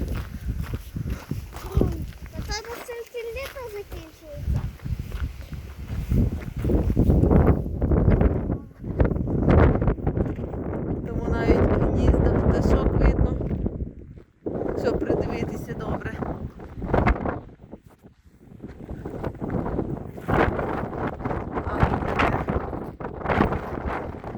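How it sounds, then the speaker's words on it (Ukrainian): Strong wind at Castle Rock, Kansas buffets the microphone in loud, sustained gusty roars with brief lulls, while footsteps crunch and a voice speaks intermittently. "Дуже сильний вітер."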